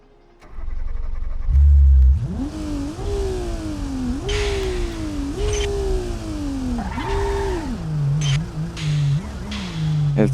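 A car engine in BeamNG revs hard again and again, each sweep climbing until it bounces off a soft rev limiter set at 8,000 rpm. The close, loud revving comes in uneven bursts after a brief startup.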